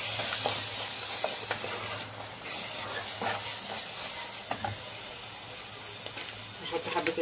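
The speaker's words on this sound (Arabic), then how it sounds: "نقلب بقى الخليط ده كده." A paprika spice mixture is stirred in a pan with a soft, steady sizzle and scattered light scraping strokes, fairly quiet and continuous, with no voices.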